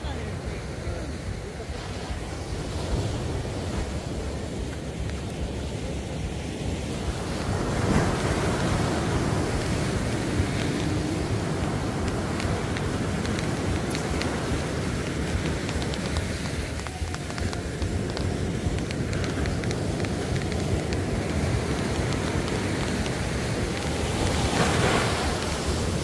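Ocean waves wash onto a beach at night, a steady broad surf roar running throughout with gusts of wind buffeting the microphone and a swell building around the middle; a voice speaks briefly beneath.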